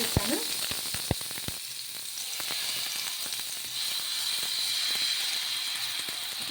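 Sabudana dosa batter sizzles steadily on a hot pan, opening with a few sharp clacks of utensil contact before settling into an even, close hissing fry.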